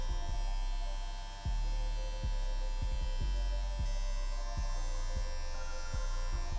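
Electric hair clippers with the guards removed buzz loudly and steadily at close range while tapering hair, with regular short dips as they pass through the hair.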